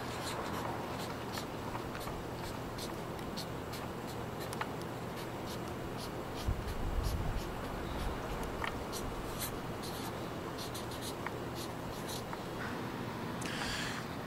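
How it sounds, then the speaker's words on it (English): Handwritten notes going down on paper, a faint, steady scratching of pen strokes with light taps, close and quiet over a constant background hiss. "I should write that down."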